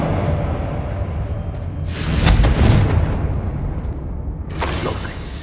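A Confringo fire spell explodes in the game Hogwarts Legacy, giving a loud booming burst with a crackling tail over a constant rumbling background, then a smaller blast near the end.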